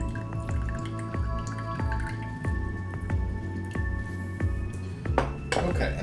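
Half a lime squeezed for margarita juice, giving repeated wet squishing and dripping pulses close by, with faint clinks of kitchen tools and glassware between squeezes.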